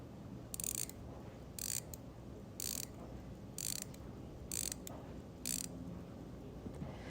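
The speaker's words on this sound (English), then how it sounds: "what it sounds like when you wind the watch" A pocket watch being wound by its crown, close and quiet, giving a series of six crisp ratcheting clicks at roughly one-second intervals over a faint background hiss.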